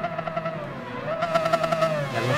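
A Le Mans race car in Gran Turismo 7 drones along and then revs higher, its engine note rising and pulsing with quick gear-change stutters, loud and close.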